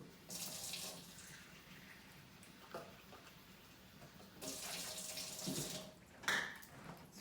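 Water runs from a tap in two or three bursts, a steady hiss that starts and stops, with a quieter gap between pours.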